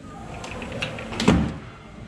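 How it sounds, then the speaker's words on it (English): A door at a villa in Lonavla swings open with a brief creak and a clunk of the latch, close and moderately loud, amid room noise. "And I'll open this door."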